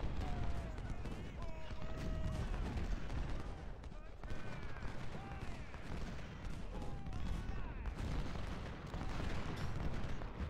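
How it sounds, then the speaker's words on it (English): Cannon and gunfire from a Civil War battle in the strategy game Ultimate General: Civil War, with repeated booms and crackling shots running continuously under steady talking. "they've shot their cannon"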